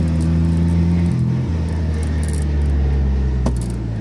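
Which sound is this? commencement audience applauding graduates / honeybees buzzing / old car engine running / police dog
old car engine running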